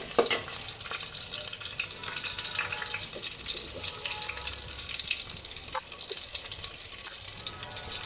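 Onion frying in oil in a pan for a pumpkin and dried fish curry, with a steady bright sizzle throughout and occasional soft scrapes and stirring clicks.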